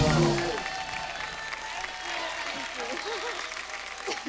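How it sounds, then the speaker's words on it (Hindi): Studio audience applause on The Kapil Sharma Show greeting actress Sonakshi Sinha, a dense continuous wash of clapping that swells at the start and holds steady, with a host's voice speaking over it. "जोरदार तालियां सोनाक्षी के लिए"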